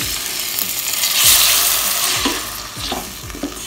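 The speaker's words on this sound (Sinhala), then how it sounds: "අපි මේකට අපි කපාගත් තක්කාලි ටික එකතු කරමු" Chopped tomatoes hit a hot pan of lightly browned garlic while cooking for a homemade pizza, giving a loud, steady sizzle and frying hiss with a few stirring scrapes and no talking.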